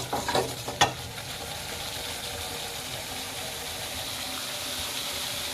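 Masala for a tilapia fish curry frying in a pan on a stove, with a couple of sharp scraping stirs at the start followed by a steady, even sizzle that continues to the end.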